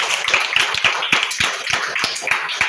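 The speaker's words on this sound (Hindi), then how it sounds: "जोरदार ताली बजाइए।" An audience of students at a school play applauds, sharp, irregular claps and taps over a steady bright wash; no talking.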